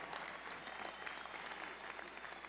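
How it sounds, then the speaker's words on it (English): Union members clap for Connecticut Local 2663 during an address, a thick continuous round of applause from a crowd with a few scattered voices underneath. "Give yourselves a round of applause, Connecticut."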